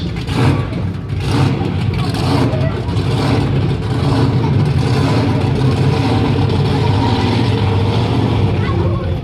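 A monster truck engine at a show runs loud and close, with a low rumbling idle and a few quick throttle blips early before settling into a steady roar.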